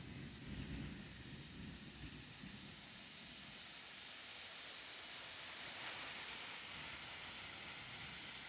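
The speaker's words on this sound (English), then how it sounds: "Sounds like the rain's picking up." Rain falling steadily in woods around a small farm, a faint, even hiss of drops on leaves and ground with no voices.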